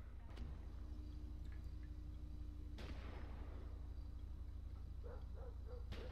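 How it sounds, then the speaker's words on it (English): Gunfire in GTA 5 on the Blaine County streets: a few faint, distant shots crack out singly and far apart over a low, quiet background. "Okay, we've got gunshots over here."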